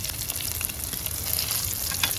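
Shallots and green chillies hit hot oil after mustard seeds have popped, giving a continuous close sizzle with light stirring for a Kerala curry.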